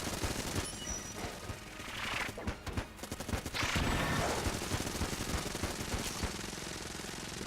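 Rapid gunfire from the dungeon-crawler shooter Enter the Gungeon, a dense, continuous barrage of overlapping shots and impacts that stays loud throughout with only a brief thinning midway. No voices.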